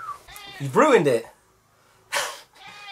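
Cat meowing close by, a single drawn-out, wavering call, with a person speaking briefly afterward.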